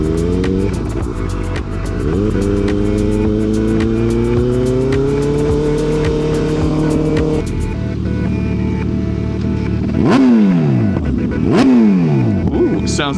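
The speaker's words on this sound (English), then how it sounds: "That Busa is louder than I remember it." Suzuki Hayabusa motorcycle engine revving loudly up close, a sustained rising roar that drops off, then sharp blips and swooping rev surges near the end.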